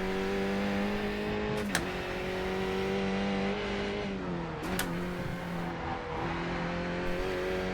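A race car engine in a driving game holds a sustained, buzzing drone, dipping with two sharp gear changes and brief lifts before climbing again, with no voices over it.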